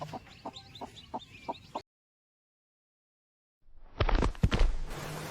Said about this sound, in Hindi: मुर्गी सुबह सुबह कुकरू कुकरू बांग लगा के लोगों को जगाती है